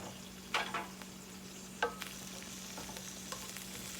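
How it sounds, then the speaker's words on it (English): Onions sauté in a pan while turkey burgers cook. The sizzle is a soft, steady hiss, broken by a few brief scraping stirs. A faint constant hum sits underneath, and no one talks. "there's the onion sauteing up."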